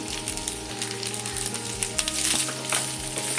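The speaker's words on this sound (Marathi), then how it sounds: "आणि हे चांगलं आपण परतून 2 मिनिटं घेणार आहोत" A vegetable filling for bread patties sautés in a pan, giving a steady close sizzle and crackle with occasional spoon scrapes as it is stirred.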